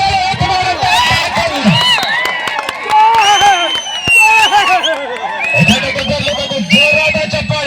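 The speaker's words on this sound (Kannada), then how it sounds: "ಜೋರಾದ ಚಪ್ಪಾಳೆ." A large crowd cheers, whoops and shouts loudly and continuously, with some clapping, at a village kabaddi match between SRM Brothers and New Day Wada in Mainalli. Bursts of deeper shouting rise near the start and end.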